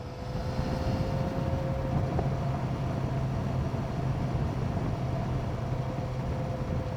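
Yamaha XJ6N motorcycle ridden slowly, a steady low engine drone with a sustained hum and continuous rushing wind noise, loud and even throughout.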